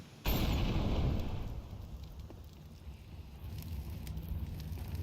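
A grenade explodes in a Counter-Strike match with a sudden loud blast that fades into a low, rumbling tail over a few seconds of game ambience.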